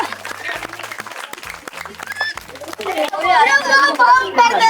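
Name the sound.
audience applause for the matka-breaking challenge contestant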